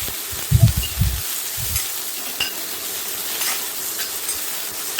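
Green chillies and mint frying in a little oil in a pot, a soft steady sizzle and hiss with a few low stirring thumps near the start.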